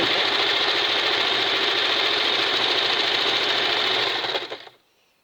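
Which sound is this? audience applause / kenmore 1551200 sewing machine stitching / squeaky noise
kenmore 1551200 sewing machine stitching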